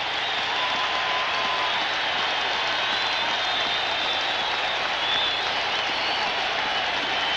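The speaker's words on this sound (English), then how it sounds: "Sellout crowd at Sullivan Stadium. Enjoying that one." A sellout stadium crowd at a 1986 NFL game roars steadily after a blocked field goal, a dense wash of distant cheering and applause that holds throughout.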